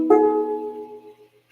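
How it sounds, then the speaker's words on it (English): A banjolele strummed once up close, a bright plucked chord ringing out alone and decaying over about a second. "So that's the sound of the banjo lily."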